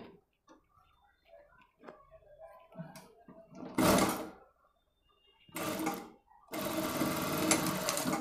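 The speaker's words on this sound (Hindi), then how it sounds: "यहाँ पे सिलाई लगाएंगे" A sewing machine stitching the shoulder strap of a deep-neck blouse: soft ticking and fabric handling first, then three loud bursts of rapid running stitches, the last one long and steady, close to the microphone.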